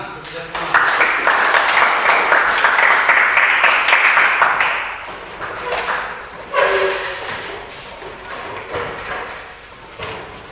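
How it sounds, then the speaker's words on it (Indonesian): A group in a classroom gives a burst of applause that lasts a few seconds, loud and dense, then fades into scattered claps and background noise. "Oke, tepuk tangan."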